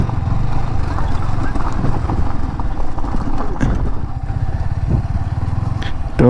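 KTM Duke 250 and Yamaha R15 V3 motorcycles are parked by a waterfall at the end of a short off-road stretch. Their engines give a steady, close rumble that carries through the whole clip.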